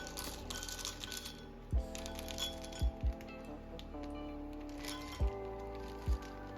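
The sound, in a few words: penne pasta added into a hot pot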